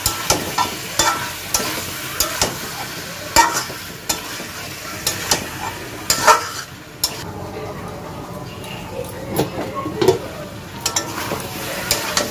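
Potatoes for aloo dum frying in a pot over lowered heat, a spoon stirring and knocking against the metal in irregular clacks over a steady sizzle, close by.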